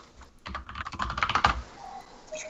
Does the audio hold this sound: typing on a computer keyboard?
yes